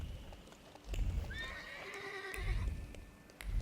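A horse whinnies in The Thaumaturge, a clear rising-and-falling neigh in the middle of the sound, set between soft hoof clops and quiet game ambience.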